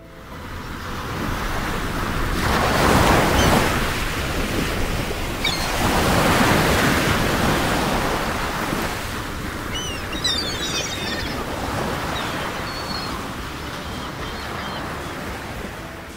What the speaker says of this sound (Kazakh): Балалар, сендер теңіз толқынының дыбысын естіп көрдіңдер ме?